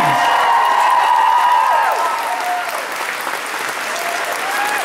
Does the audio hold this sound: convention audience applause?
yes